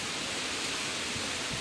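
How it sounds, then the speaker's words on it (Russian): Heavy rain pouring down near the sea at Zalizny Port, a dense, even hiss of falling water with no other sounds breaking through. "И дождь опять начался очень сильный."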